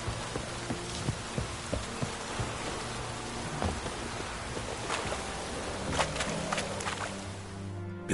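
Steady heavy rain in the video game The Witcher 3 on PS5 pours down in a dense, continuous hiss, with occasional louder drops and splashes.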